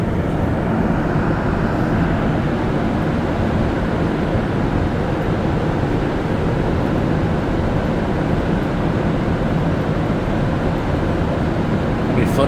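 A Montreal Metro train rolls along with a loud, steady rumbling roar that holds constant throughout, with no clear talk over it.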